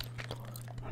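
Cotton candy bubblegum chewed close to the mic, soft wet smacks and quick bites in a brief burst over a low steady electrical hum.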